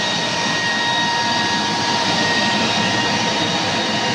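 Raw water booster pump number 1, a 30 horsepower unit run by a variable frequency drive, gives off a loud, unbroken roaring hum with a faint steady whine on top, and no voices are heard.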